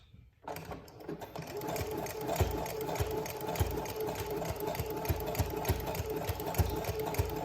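A sewing machine runs a long, wide zigzag stitch along the edge of a gusher pad core, a steady mechanical whir with rhythmic needle thumps that continue unbroken and close by after a brief quiet start.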